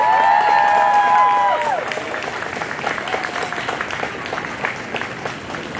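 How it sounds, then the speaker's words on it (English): A crowd at Entheofest applauds a speaker, with clapping and some cheering. A sustained tonal sound rings over the start, then the clapping carries on more loosely and fades. "Big, big round of applause for Emily Berryman."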